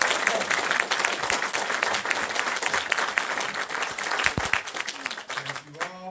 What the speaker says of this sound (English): would everyone please welcome and give a big round of applause to Dr.